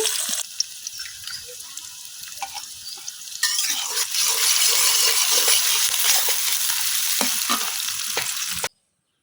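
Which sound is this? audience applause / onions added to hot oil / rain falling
onions added to hot oil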